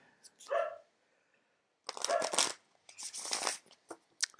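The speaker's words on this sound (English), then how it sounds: "3 shuffles for our oracle reading." A deck of oracle cards being shuffled, heard as a few short, quiet bursts of riffling separated by brief pauses, with a faint thump near the start.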